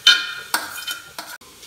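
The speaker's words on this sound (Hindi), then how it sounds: "ये मिक्स हो गया चिकन और मटर" Boiled chicken and peas are stirred into frying vegetables in a pan, with a few sharp metallic clinks and scrapes of a spoon against the pan over a light sizzle.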